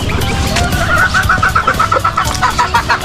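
Brooding hens sitting on their nests, clucking in a steady, repeated series of close, loud calls over a constant background bustle of other farm birds.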